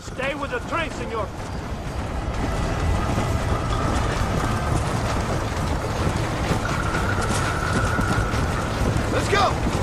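A steam train in the Red Dead Redemption video game rumbles and clatters along the rails in a steady, continuous roar, with a whistle-like tone and voices briefly over it.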